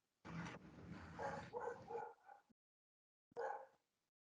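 A dog gives a short run of barks and yips, then one more bark after a pause, heard faintly from nearby indoors with no talking.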